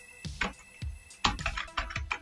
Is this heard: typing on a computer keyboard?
yes